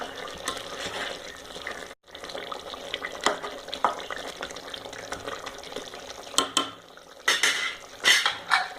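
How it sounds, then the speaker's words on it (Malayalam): Chicken curry stirred in a pressure cooker pot after crushed black pepper goes in, a steady clatter of a spoon scraping and knocking the metal pot, with sharper clinks and a brief pause midway. "ഒന്ന് ഇളക്കി കൊടുക്കാം."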